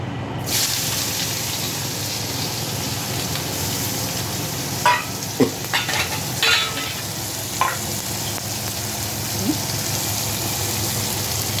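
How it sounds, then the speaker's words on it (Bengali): Onions fry in a pan for a Bengali garlic bharta, a steady close sizzle with a few stirring clinks and scrapes of a utensil scattered through it, and no voices. "পেঁয়াজটা দিয়ে দিচ্ছি ভাজা"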